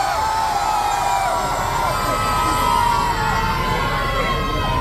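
A large crowd at a shop inauguration roars with cheering and shouting in a dense, continuous, loud wash of voices.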